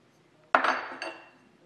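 A metal aileron hinge for a Bearhawk experimental airplane is tapped in a vise, two sharp metallic clinks about half a second apart, close and clear in a quiet room.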